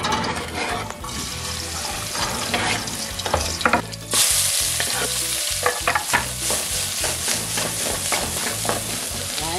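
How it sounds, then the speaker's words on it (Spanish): Chopped onion frying and being stirred in a pan for a fish stew, a continuous loud sizzle with scraping stirring strokes throughout, close up, no talking. "Y que se dore un poquito, que se haga caramela la cebollita."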